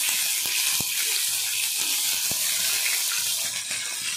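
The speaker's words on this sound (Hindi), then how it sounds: "इधर कढ़ाई बैठा है, इसमें मटर भून लीजिए" Peas roasting in hot oil in a kadhai give a steady, bright hiss of frying that holds at an even level for the whole stretch. A few sharp clicks and taps stand out above it.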